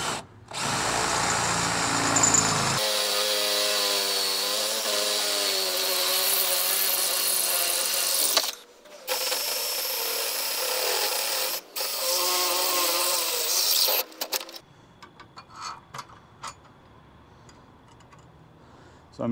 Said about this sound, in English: I'm using some stainless steel nylon lock nuts. I'm just getting them pulled up close for now